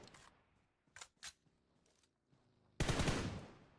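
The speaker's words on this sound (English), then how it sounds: "trading blows with shotguns right now" Shotgun fire in a competitive video game match: a few sharp, scattered blasts over near silence, then one loud, close burst that rings out and slowly fades.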